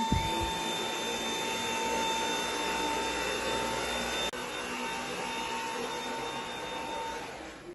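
A Dyson V8 cordless vacuum cleaner fitted with its tube and standard head runs with a steady high-pitched whine and airflow rush, close and loud, and a brief shift in tone partway through.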